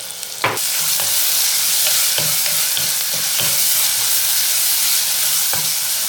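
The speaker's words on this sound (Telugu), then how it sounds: "ఇక కాలీఫ్లవర్ని కూడా కట్ చేసుకొని వేసుకోవాలి" Cut cauliflower frying in a pan for vegetable pulao gives a loud, continuous sizzle, with occasional knocks and scrapes of stirring on the pan throughout.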